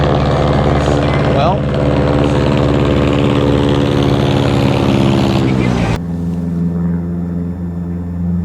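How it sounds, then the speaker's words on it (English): A turboprop aircraft takes off in the distance, heard from the water on a catfish jug-fishing trip. Its loud, steady droning hum holds for several seconds, then drops in pitch and level. Someone speaks briefly. "That's what I heard in the distance, and I thought that's a really weird sounding mud motor. Sure enough, it's a turboprop aircraft apparently. And it just took off."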